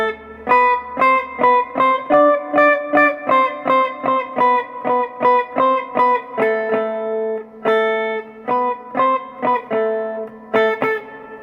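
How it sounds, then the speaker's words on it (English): Clean electric guitar through spring reverb playing a steady run of plucked jazz octave notes, each ringing with a springy reverb tail, close and fairly loud with no talking. "You can hear my spring reverb there."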